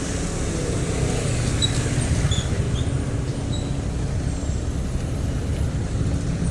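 Heavy stop-and-go traffic on EDSA, a continuous dense rumble of car and truck engines at close range, with faint higher squeaks scattered through it and no talk.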